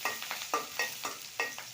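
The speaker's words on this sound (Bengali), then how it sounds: "এবার একটু ভেজে নিই এগুলো" Green chillies, onion and garlic frying with cumin in oil, with a spatula scraping in a steady rhythm of about seven strokes over a soft sizzle, heard close and without talk.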